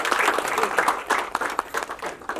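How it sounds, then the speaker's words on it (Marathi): An audience claps at a Marathi film trailer launch, a lively rattle of applause with crowd noise and some voices underneath, close and fairly loud, swelling and easing over a couple of seconds. "जोरदार टाळ्या व्हायला पाहिजे"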